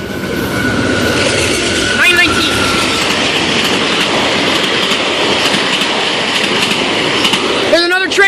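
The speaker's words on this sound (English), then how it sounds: "There's another train coming." GO and VIA trains at Danforth station, one pulling in with a loud, continuous rumble, rhythmic wheel clatter and high squeals near the start and end, while a voice speaks over it.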